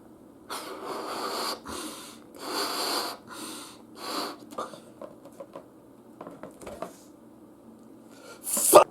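A voice imitates a balloon-animal dog sniffing: several quick, breathy snorts and sniffs in bursts, followed by softer scattered puffs and a louder final snort.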